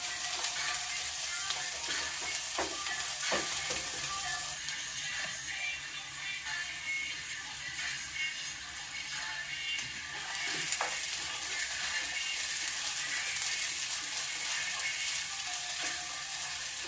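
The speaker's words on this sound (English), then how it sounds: "Okay, fry the bamboo shoots." Bamboo shoots frying in sesame oil for kinpira make a continuous crackling sizzle with scattered pops and stirring clicks, loud and close throughout, with no talk.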